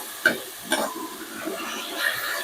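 Tomatoes and salt frying in a pan while being stirred, with a few soft spatula scrapes over a low, quiet sizzle and no voices.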